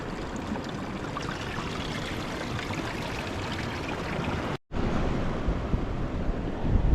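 Ocean waves surge and wash continuously at Dibut Beach in San Luis, Aurora, with strong wind noise on the microphone. A brief dropout occurs midway, then the roar resumes.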